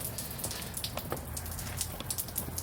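Rain falls outside a garage as a soft, steady patter of drops, fairly quiet and close, with scattered sharper drips over a constant wash.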